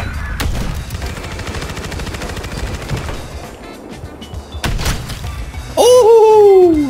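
Sniper rifle shots ring out during a search and destroy round in a shooter game, two sharp loud cracks amid steady background battle noise, followed by a rising-and-falling electronic tone.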